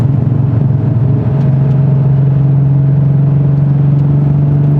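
A 1987 Porsche 930 Turbo engine pulls hard under acceleration, a loud, steady droning rumble heard close from inside the car with a slight shift in pitch partway through, no talking.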